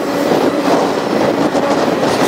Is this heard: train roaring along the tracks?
yes